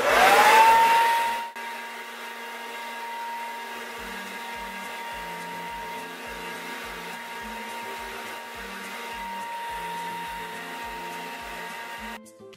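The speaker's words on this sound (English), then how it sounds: "I'm just gonna take my blow dryer and I'm just gonna dry it." A blow dryer drying hair starts up loud, with a rising whine as it spins up, then settles into a steady, fainter whir with a constant tone that runs close to the microphone until it cuts off.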